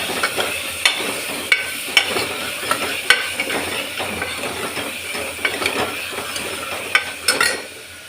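Beetroot stir-frying in a pan gives a steady sizzle, punctuated by repeated sharp scrapes and clicks of a spatula against the metal roughly every second, close up and with no talking.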